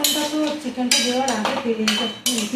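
Onion and ginger-garlic paste stirred in a pan for a chicken curry, a spoon clinking and scraping against the metal in quick bursts while voices talk over it.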